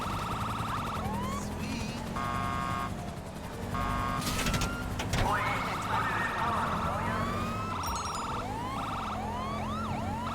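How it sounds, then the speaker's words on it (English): Police sirens sound from a spawned aircraft in the GTA Online video game. The tones keep switching between rising whoops, steady wails and rapid yelps, loud and close, over a continuous engine drone, with brief talk. "if you hold E, you can get a different siren"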